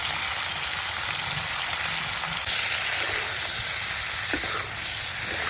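Potato and cauliflower frying in a pan with salt and turmeric, a dense continuous hiss and sizzle close up, with a faint clink or two near the end and no talk.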